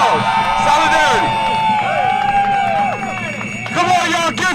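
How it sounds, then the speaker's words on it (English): A crowd at a Rutgers University rally claps and cheers with whoops and shouts, loud and close, while voices carry through the noise. "Give yourselves a big round of applause"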